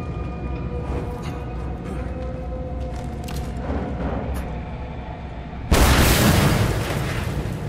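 In the Mad Max video game, a sudden loud explosive boom erupts over a constant rumbling background and lingers as a heavy roar.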